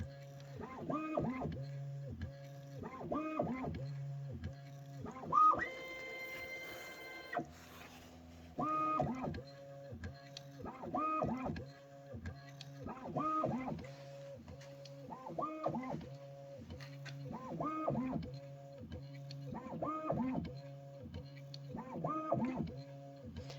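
A Rocky Mountain PLC matrix filler machine with an eye sensor runs a syringe-filling cycle, pushing 1 ml doses. Its mechanical strokes repeat in a steady rhythm about every second and a half, with a brief, busier whirring burst near the middle.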